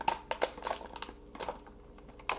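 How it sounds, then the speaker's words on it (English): Plastic packaging crinkling up close as D&D monster miniatures are unboxed: a brief run of crisp, crackling rustles and small snaps. "excuse all the crinkling again"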